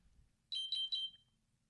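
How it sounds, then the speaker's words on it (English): A phone alarm sounds three quick high electronic beeps, clear and close, during a quiet indoor conversation between a married couple. "Just my alarm."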